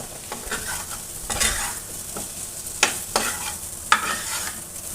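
Fried vegetables, green banana and potato, are tipped into a hot pan and stirred, giving a close sizzle with scraping stirs and a few sharp clacks of the spoon against the pan.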